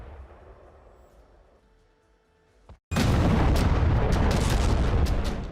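Israeli strikes hit Lebanon's Bekaa Valley: after a quiet low rumble, a sudden massive blast erupts and rolls on as a loud, sustained roaring boom.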